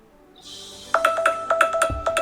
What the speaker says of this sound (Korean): 바로 폰 찾기 알람이 바로 떠요.